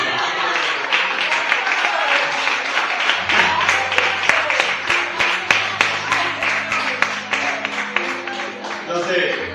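A church congregation applauds with dense, sustained clapping that stays loud throughout, joined by voices and cheering from the crowd.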